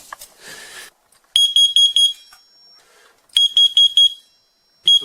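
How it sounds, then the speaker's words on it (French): An X-Sense standalone carbon monoxide detector with a display sounds its alarm: loud, piercing beeps in quick groups of about four, with pauses between the groups. Nothing else is heard over it. "j'ai entendu à une assez grande distance que le détecteur avait déclenché"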